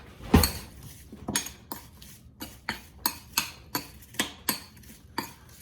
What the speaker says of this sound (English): And I'm gonna add a little bit of cinnamon. Then I'm gonna stir that up.